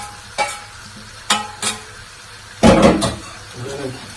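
Grated potato goes into a bowl of beaten eggs and is stirred in: a few scattered soft wet clicks and scrapes, then a louder burst of close, squelchy stirring that trails off.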